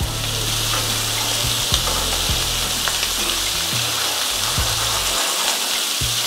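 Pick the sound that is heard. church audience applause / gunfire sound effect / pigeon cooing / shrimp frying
shrimp frying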